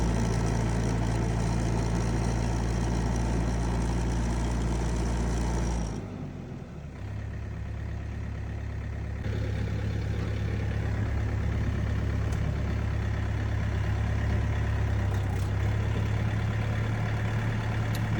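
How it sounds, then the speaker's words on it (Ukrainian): A Kentavr 504 tractor engine idles steadily and low throughout, with a brief dip partway before the even rumble resumes, close and continuous with no talking. "дуже гарно звучить мотор"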